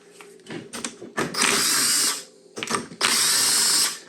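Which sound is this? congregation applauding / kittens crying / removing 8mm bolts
removing 8mm bolts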